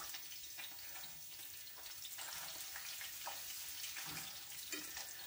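Chopped meat cutlets fry in a pan with a soft, even sizzle, low in volume and steady, with light crackles scattered through it.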